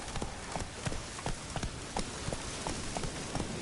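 Hooves of Roach the horse clip-clopping in the video game The Witcher 3, a steady quick rhythmic beat of hoof falls over a dense noisy background, close and fairly even.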